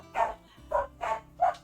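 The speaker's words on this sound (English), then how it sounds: "I'm sorry for my dogs." Dogs bark four times in a quick, fairly even series, each bark a short, mid-pitched bow-wow heard fairly close over a faint low hum.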